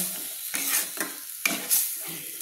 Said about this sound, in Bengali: দিয়ে ভালো করে আমি আর একটু কষিয়ে নিচ্ছি।